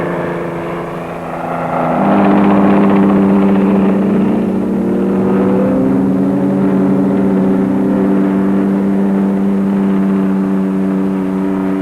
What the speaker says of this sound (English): And the Whirlwind, the Navy's familiar chopper,